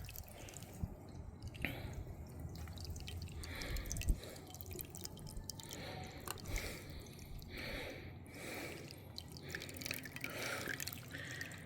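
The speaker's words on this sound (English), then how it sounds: "And that starts flowing right. It makes 3 nice little streams." Water trickling from a birdbath in three small streams, a soft, steady dripping and splashing patter, faint and close, running continuously without talk.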